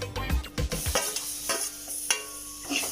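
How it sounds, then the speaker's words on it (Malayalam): Chopped tomatoes stirred into masala frying in a pan for a Kerala sardine fish curry, with scraping spoon strokes and a soft sizzle running close and steady, no talking. "ഇതോടെ ഇതിലേക്ക് ചേർത്തിട്ട് നല്ലതുപോലെ ഒന്ന് മിക്സ് ചെയ്യാം."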